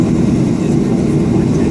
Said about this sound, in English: There goes the airplane